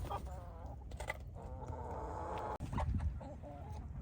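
Backyard chickens clucking and calling close by, a run of short and drawn-out hen vocalizations with soft background noise, brief speech faintly mixed in.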